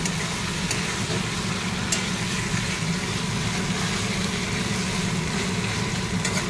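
Onion and prawns frying in a pan give a steady, even sizzle throughout, close and moderately loud, with no talking.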